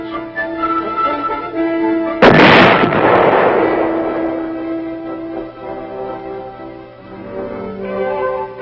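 A tank gun fires during weapons testing at Aberdeen, a single loud, sharp blast followed by a long rumbling decay over a steady engine-like hum.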